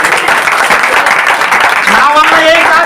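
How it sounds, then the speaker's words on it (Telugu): An audience claps at a church prayer meeting closing a forty-day prayer, a steady wash of hands beating throughout the stretch, with a voice rising over it near the end. "చప్పట్లు కొట్టండి"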